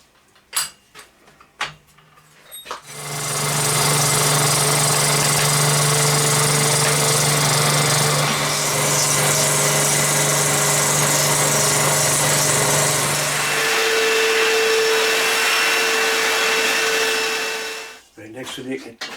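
A milling machine takes a double cut across both faces of a metal custom gear lever part, a loud steady grinding whine that runs for about fifteen seconds then stops, with a few clanks before and after.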